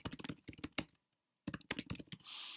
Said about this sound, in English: you type in a little message that can only be a maximum of 140 characters